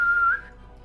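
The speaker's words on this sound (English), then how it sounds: "you start to hear the whistling of arrows now" An arrow whistles through the air in a single sustained, high thin tone that holds and then drops away abruptly into a quiet, low background, alone with no voices.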